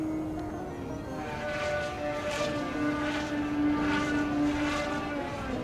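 E-flite Timber RC bush plane in flight, its propeller giving a steady buzzing drone with a held pitch that shifts slightly as it passes, heard continuously at moderate distance.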